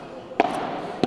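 Padel ball struck during a championship rally, two sharp hollow hits about half a second apart over a faint arena background.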